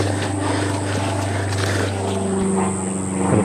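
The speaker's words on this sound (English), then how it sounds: "Got a plane doing some joyrides, perfect timing." A small propeller plane doing joyride passes drones steadily overhead at a campsite, its engine hum loud and continuous with a broad rushing noise and no voices over it.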